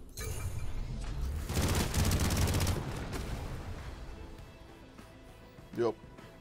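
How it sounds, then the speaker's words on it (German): Gunfire from the video game Phantom Brigade: a dense burst of shots swells and fades over a few seconds, then one sharp, loud single execution shot rings out near the end. "Der Exekutionsschuss am Ende."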